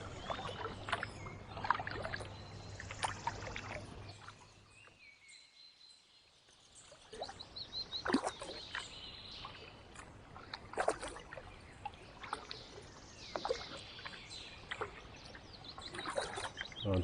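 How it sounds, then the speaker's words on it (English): Kayak paddled around water lilies on a small sheltered loch, Loch Chon: soft, close paddle splashes and drips recur irregularly, with a brief quiet lull partway through. "I'm just paddling round a load of lilies."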